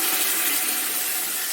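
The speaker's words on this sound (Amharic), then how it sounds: "አሁን እዚህ ጋር ውሃ ጨምርበታለሁ" Cold water poured into a cooking pot of fried meat, a continuous close hissing splash and gurgle lasting the whole moment without pause.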